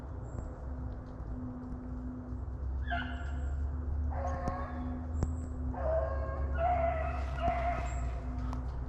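Hunting dogs on a rabbit hunt near a truck let out several short whimpers and yips in separate bursts, fairly faint and distant, over a steady low hum.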